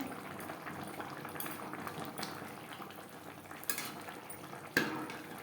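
Vegetables simmering in gravy in a pot, a faint low bubbling with a soft stir and a couple of brief clinks near the end.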